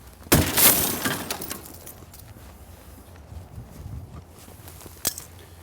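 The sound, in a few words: breaking glass of overturned car during vehicle extrication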